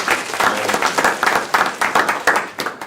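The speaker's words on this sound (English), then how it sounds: "So I need to visually and loudly applaud." Loud close clapping from a small group in a livestreamed gathering, quick rhythmic claps in a steady run with sharp individual hits, lasting a few seconds.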